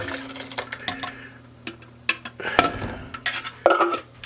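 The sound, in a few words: pureed tomatoes going into a Dutch oven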